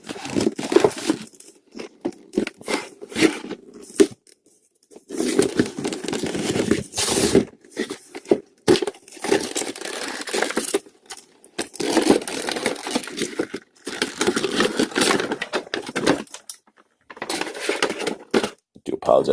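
Action figure packaging being torn and ripped open in repeated loud bursts of plastic crinkling, cardboard tearing and scraping, close up, with pauses and talking between the bursts.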